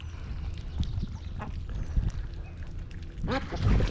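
Ducks quack near someone feeding them dog food outdoors, scattered short quacks and splashy movement up close, with someone talking alongside.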